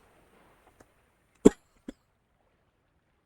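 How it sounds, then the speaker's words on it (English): A person with a cold coughs: one loud, harsh cough near the middle, then two shorter, fainter coughs spaced out afterward, over near silence with a faint murmur at the start. "sorry for the coughing, but I have a cold"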